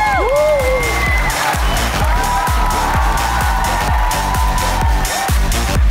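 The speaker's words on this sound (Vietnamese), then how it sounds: "Vỗ tay nồng nhiệt chào đón Trường Kevin." Studio audience on a TV show applauding and cheering loudly, a dense, continuous wash of claps and whoops over rhythmic pulsing show music.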